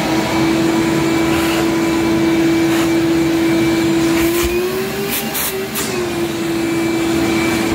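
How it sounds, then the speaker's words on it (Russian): A household vacuum cleaner runs continuously at close range, a loud steady whine with a slight pitch shift near the end as it is moved about while cleaning kitchen cabinets. "И вот я тут с этим пылесосом, теперь еще надо будет протереть."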